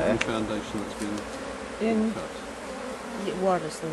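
Honeybees buzz around an opened beehive in close, continuous droning waves, and people talk quietly over the hum.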